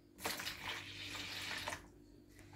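Lukewarm water is poured for pizza dough in a short, close, steady splashing stream lasting about a second and a half, then it stops.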